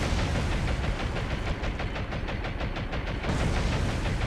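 Torpedo hits explode against ships in the naval game War on the Sea: a loud, heavy rumbling roar pulsing in rapid repeated bursts, easing briefly before swelling again.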